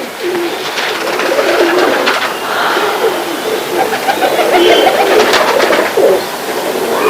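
A slightly weak pigeon gives soft, rolling coos close at hand, repeating steadily throughout, with a little background talk and bird chatter.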